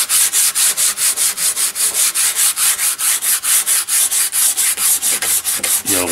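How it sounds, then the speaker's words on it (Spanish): Steady back-and-forth sanding of shellac-coated guitar wood with P180 sandpaper, brushed on by hand, each stroke a rhythmic rasping swish repeating about twice a second, close and loud with no talk. "Y ahora pues vamos a pasarle una lijita,"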